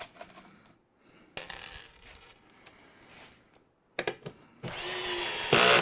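A power drill drives screws into a drawer cabinet with brief clicks and clatter, then a loud sustained whirring burst near the end that rises in intensity.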